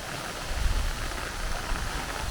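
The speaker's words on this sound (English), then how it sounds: "I'm definitely not trying to put filters on in this rain." Steady heavy rain hissing continuously on Dartmoor, a dense wash of falling water with no voices.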